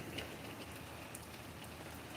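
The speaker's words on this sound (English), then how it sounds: "See the little rain droplets on the juniper tree?" Rain falls steadily on juniper trees outdoors, a soft, even patter that holds throughout.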